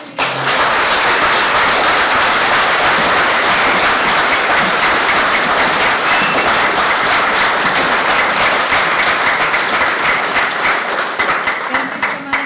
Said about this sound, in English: We can have a round of applause for